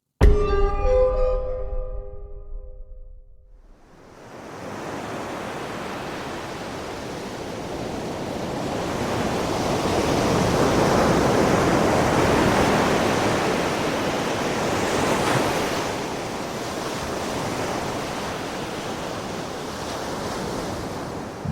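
Churning ocean surf rolls in steadily at full strength, a continuous broad roar of breaking waves that swells and eases slightly, with no voices over it after a brief musical opening.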